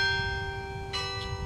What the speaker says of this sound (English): Some sounds, like the bells from the Denny Chimes, are still a fixture on the Quad in Tuscaloosa.